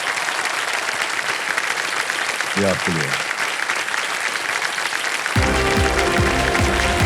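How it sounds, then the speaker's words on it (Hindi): Loud, steady applause from a studio audience on the TV quiz show Kaun Banega Crorepati, with a brief spoken line over it and a burst of music joining near the end. "एक बार जोरदार तालियां बजाएं"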